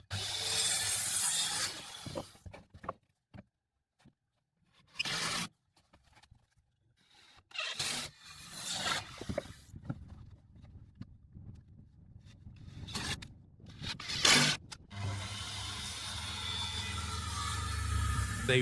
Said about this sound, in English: They roll out the gray protective membrane, covering the raw wood, the first true barrier against the sky.